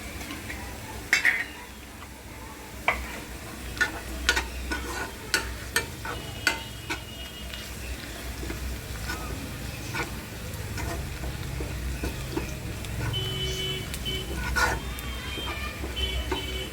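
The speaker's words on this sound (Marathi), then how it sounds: "लसूण भाजून घेऊया" Garlic and onion fry in a pan for veg pulao: a steady low sizzle under a run of sharp spatula scrapes and metal clinks against the pan, louder in the first half and settling into continuous frying.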